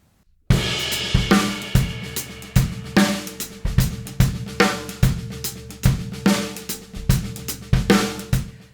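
A drum kit plays a steady, busy paradiddle-diddle groove with punchy kick and snare accents over ringing cymbals, repeating evenly and up close.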